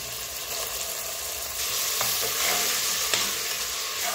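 Ginger garlic paste hits a pan of frying onions, with a steady close sizzle and light scraping stirs growing slightly louder as the paste is mixed in.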